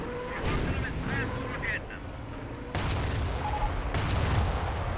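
Artillery fire in a World War II real-time strategy game, several dull booms and bursts of gunfire over a dense, continuous battle noise.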